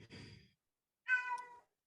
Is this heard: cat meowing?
yes